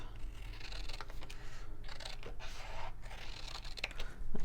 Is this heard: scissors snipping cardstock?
yes